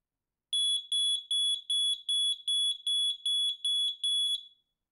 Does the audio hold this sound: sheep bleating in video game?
no